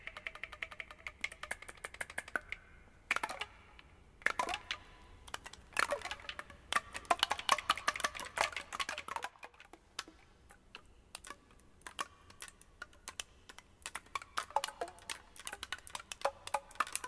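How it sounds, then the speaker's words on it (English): Woodwind keys pressed without the tone holes covered give dry, irregular clicks and clatters, close and fairly quiet, in scattered bursts with short pauses between them. "if you don't hold down the holes, you just get a clicking kind of sound"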